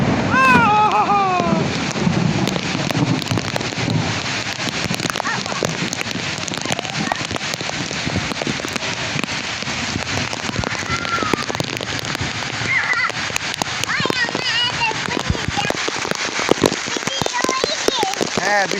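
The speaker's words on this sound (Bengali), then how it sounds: "আমরা বৃষ্টিতে ভিজতেছি" Steady rain falls on a rooftop with camellias, making a dense patter with wind buffeting the microphone, while voices talk and call out over it.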